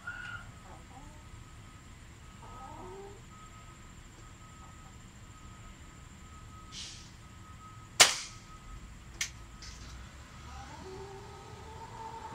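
A Crosman F4 .177 pellet air rifle fires outdoors, giving one sharp crack followed shortly by a fainter click, set against a quiet, steady background hum.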